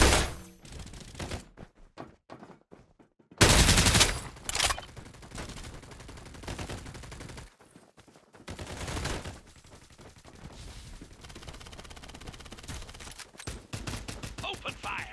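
Gunfire in the mobile battle game Farlight 84, with bursts of rapid shots and loud blasts mixed with game sound effects and a voice, louder after a brief gap and then dense, sustained firing through the rest.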